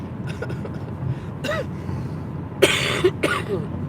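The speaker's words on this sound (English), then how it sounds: "Sorry, I didn't expect to cough this much." A woman coughs while sitting in a car, several short harsh bursts spread over a few seconds against a steady low road hum, the last coughs louder and closer together.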